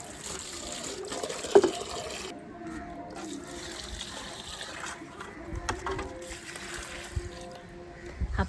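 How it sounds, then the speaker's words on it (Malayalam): Water is poured onto potted garden plants on a hot day, a soft irregular trickle and splash in the background, with brief clatters. "ചെടിക്കെല്ലാം വെള്ളം ഒഴിക്കട്ടെ"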